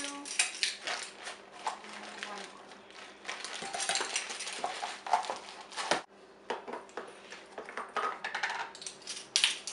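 Brown sugar is scooped with a plastic measuring scoop into a bowl for Thanksgiving baking, giving a dense run of light clicks, scrapes and taps, fairly close, with a brief pause partway through.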